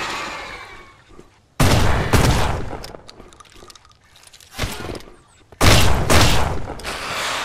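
Loud gunshots in the survival video game Mist Survival, two separate clusters of sharp, heavy blasts with echoing tails, ringing out between quieter stretches of ambient noise.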